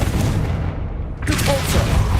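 A Confringo spell blast in the game Hogwarts Legacy: a loud, dense, booming burst that fills the whole moment, with a short dip before a second sharp crackling surge.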